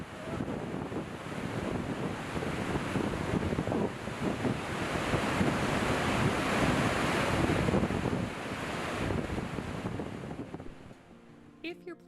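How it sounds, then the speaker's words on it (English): Wapama Falls in Yosemite's Hetch Hetchy thunders in full spring flow, a loud, dense, continuous roar of crashing water with wind buffeting the microphone, fading slightly at the end. "to hear this waterfall. The sound is so loud,"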